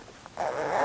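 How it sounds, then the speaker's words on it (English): A YKK coil zipper is pulled along the leather backrest of a Stickley #319 Mission rocker being reupholstered, giving one short, close rasping run that swells and holds steady to the end after a small tick. "Just make sure that you're aligned at the edge and run your zipper down."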